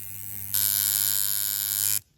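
Coil tattoo machine being adjusted, a faint hum that jumps into a loud steady electric buzz for about a second and a half, then cuts off abruptly, close and alone.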